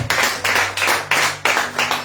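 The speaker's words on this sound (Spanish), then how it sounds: "un aplauso a Cristo" Church congregation clapping in praise after a sermon, a dense, steady wash of applause in rhythmic surges, close and fairly loud, with no talk over it.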